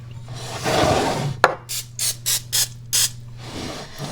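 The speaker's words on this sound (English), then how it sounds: "So now you just kind of spray them with some cooking spray." A cooking spray can hisses in several short, evenly spaced bursts after a longer initial spray over chicken tenders, close up over a low steady hum.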